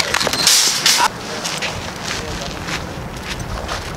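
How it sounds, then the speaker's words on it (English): Wind gusting outdoors on a hike up toward rocks, a broad rushing buffet that is strongest in the first second and then settles into a steady, softer bluster; there is no talking. "So, the wind is not that strong right now."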